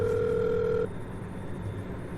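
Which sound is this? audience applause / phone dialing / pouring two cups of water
phone dialing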